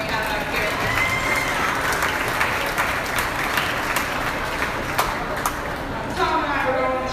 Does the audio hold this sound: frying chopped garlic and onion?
no